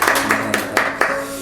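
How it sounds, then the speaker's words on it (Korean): A church congregation claps at a Sunday service to welcome first-time visitors. Several sharp, fairly regular claps sound close by over a short stretch. "우리 박수로 환영하겠습니다"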